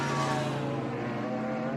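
Chevrolet Corvette GT race car running at VIR, a steady sustained engine drone with strong harmonic tones, fairly loud and continuous throughout without pauses.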